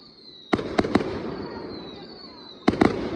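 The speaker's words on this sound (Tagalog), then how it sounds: "At ang gaganda talaga ng mga fireworks nila." Fireworks bursting at a Chinese New Year celebration in two quick clusters of sharp cracks, three pops then two more, with a faint whistle and background crowd noise between them.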